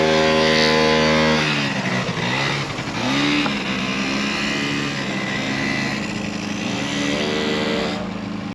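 Vintage motorcycle on a test ride at a vintage motorcycle festival, its engine droning loud and steady with a gear change and rising revs, heard close throughout with no talking.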